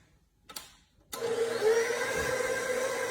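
A KitchenAid stand mixer whirs up after a small knock, beating banana bread batter with a steady close motor hum that holds to the end.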